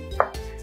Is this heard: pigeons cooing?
no